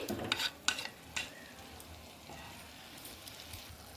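Chopped onions fry in a pan for a homemade vegetable soup, giving a soft continuous sizzle after a few brief clatters at the start, with no talking.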